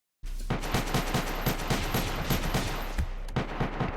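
Rapid automatic gunfire in the multiplayer space station game Space Station 14, a dense string of close, loud shots in quick rhythm that runs almost unbroken for several seconds with no voices.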